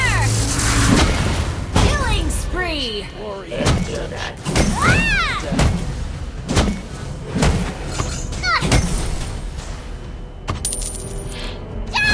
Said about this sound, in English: Rocket cannon!